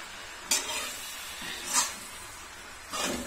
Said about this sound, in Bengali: এখন শাকটা দিয়ে সুন্দর করে ভালো ভাবে মানে নেড়িয়ে ছেড়িয়ে একদম ভালো করে লেড়ে ছেড়ে দিব